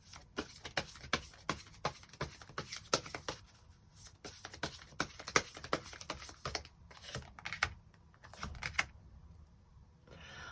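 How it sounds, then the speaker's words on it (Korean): Tarot cards being shuffled and drawn, a rapid run of dry papery flicks and taps in an irregular rhythm, close and quiet, with no talking. "그럼 5번 분들에게 앞으로 필요한 조언 카드 몇 장 더 뽑아보도록 하겠습니다"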